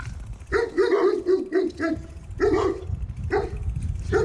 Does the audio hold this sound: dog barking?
yes